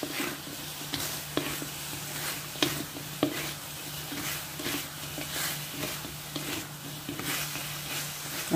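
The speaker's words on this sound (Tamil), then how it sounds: "சிக்கனை போட்டு மிக்ஸ் பண்ணி எடுத்துட வேண்டியதான்" Chicken being stirred through a thick spicy Korean sauce in a hot pan, giving a steady close sizzle with soft scraping stirs and light utensil taps throughout.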